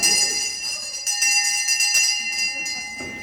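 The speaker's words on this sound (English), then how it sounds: "When intermission's over, this bell will start to ring." A theatre intermission bell for a stage musical rings loudly and steadily in a bright, continuous metallic clang with sharp repeated strikes, close and alone.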